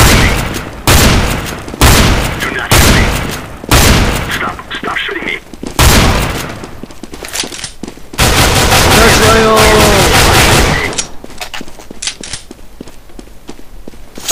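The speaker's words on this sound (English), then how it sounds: "Stop shooting me." Counter-Strike gunfire with repeated loud close bursts of shots and booming reports spread across the scene, separated by short gaps with footsteps and game noise, and a player talking at times underneath.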